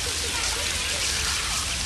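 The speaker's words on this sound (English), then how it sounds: "Everyone's trying to get out of the rain." Rain pours down in a dense, steady hiss, close and unbroken for the short stretch.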